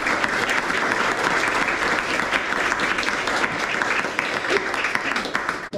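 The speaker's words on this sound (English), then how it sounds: "another round of applause, please" Steady applause from a large audience at a bookshop author talk in Bath, dense and sustained at an even level throughout before cutting off.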